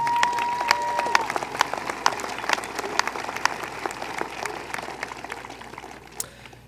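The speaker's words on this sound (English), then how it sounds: "They deserve a round of applause." Crowd applause at a high school graduation ceremony, starting as a full burst and gradually thinning into sparse individual claps as it fades out.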